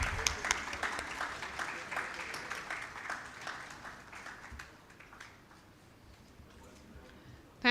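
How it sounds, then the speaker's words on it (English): An audience at a national workshop on defined contribution pension schemes applauds an event organiser: a full round of clapping that gradually thins and dies away over several seconds, ending with a brief sharp noise. "A huge round of applause for him."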